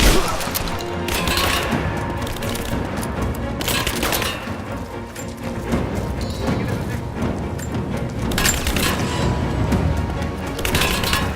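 Sustained gunfire rings out in a combat scene of the video game Rise of the Tomb Raider: dense bursts of automatic fire and single cracking shots repeat loudly throughout, with shouted soldier callouts over the firefight.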